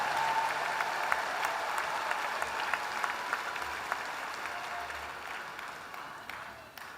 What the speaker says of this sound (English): One more round of applause for the 2024 graduates of the online MBA program.